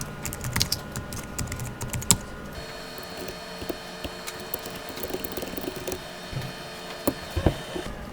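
Keys clatter on a computer keyboard in quick, irregular bursts of close, crisp clicks over a faint steady hum, with a louder clack now and then, as text is entered for an After Effects text animation.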